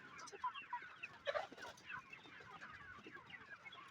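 Free-range desi hens cluck outdoors in a steady, overlapping stream of short calls, with one louder burst of clucking partway through and no talking.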